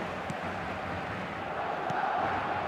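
Steady stadium crowd roar from an eFootball video game match, a dense continuous wash of cheering and chanting with no breaks, fairly loud and swelling slightly toward the end.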